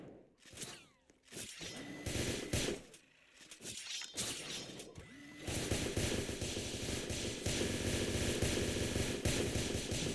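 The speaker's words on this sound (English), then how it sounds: "Who the hell is shooting me?" Gunfire in a shooter video game: scattered shots and short bursts at first, then a sustained, loud, rapid stream of automatic fire, with no talking.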